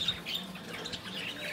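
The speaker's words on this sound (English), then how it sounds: "Got about 40 canaries here." About forty canaries squawk and chirp in a chicken shack, a dense, continuous chatter of bright calls with no voices.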